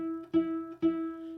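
A cello sounds a sustained E in fourth position, a steady bowed tone held close and clear, with two bow changes that briefly push the note louder.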